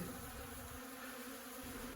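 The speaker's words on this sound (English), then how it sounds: "there's bees everywhere" Bees in an attic buzz continuously close by, a steady droning hum with no talking.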